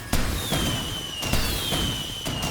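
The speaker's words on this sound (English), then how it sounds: "I got a little carried away with the fireworks at Forbes Field" Simulated fireworks pop after a home run at Forbes Field in a 1957 Indians vs Athletics game, a run of loud cracking bursts at roughly one-second intervals over a whistling whine.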